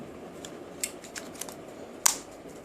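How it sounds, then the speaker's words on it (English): A few small plastic clicks and snaps, with one sharper click near the end, as a blade attachment is fitted onto a Philips QT4005 beard trimmer, close up and quiet with no talking. "So if I'm attaching the blade to them"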